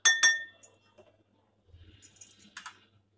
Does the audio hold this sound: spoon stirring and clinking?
yes